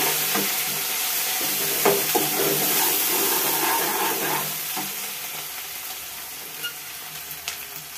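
Egg and amaranth stem curry fries in a pan, a steady close sizzle with occasional stirring scrapes and clicks, fading slightly toward the end.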